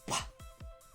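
Three sharp, nasal sneezes burst out close by in rapid succession, the first the loudest, each with a quick decaying tail, followed by a short breathy exhale.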